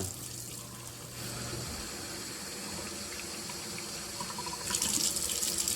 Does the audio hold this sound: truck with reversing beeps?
no